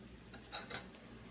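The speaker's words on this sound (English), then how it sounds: "with the fork, you press down on the middle so that it fries the whole thing at the same time" A fork pressing down on a tortilla frying in a pan, two faint metallic scrapes and clinks close by over a steady low sizzle of hot oil.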